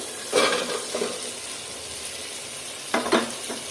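Mixed vegetables tossed into spiced mung dal in a hot pan, giving two bursts of sizzling and stirring a few seconds apart, with quieter frying in between and no talk.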